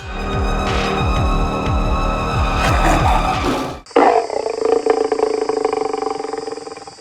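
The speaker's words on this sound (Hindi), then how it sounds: "ये गुर्राहट अगर आप सुन रहे हैं तो ये गुर्राहट उस बाघ की है जो पीलीभीत के जंगल में आजकल सुनाई दे रहा है" A tiger in the Pilibhit forest growls loudly and close, a deep, rhythmically pulsing rumble that breaks off into a sharper roaring burst and then fades.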